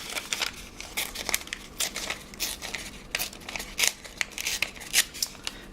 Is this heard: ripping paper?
yes